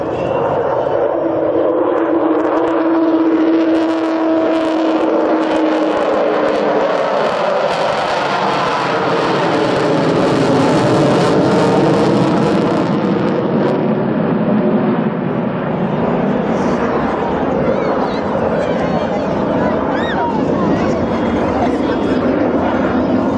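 Avro Vulcan XH558 bomber at an air display, its jet engines producing a sustained, loud roar that swells and howls as the aircraft passes, with crowd chatter and a commentator's voice faintly underneath.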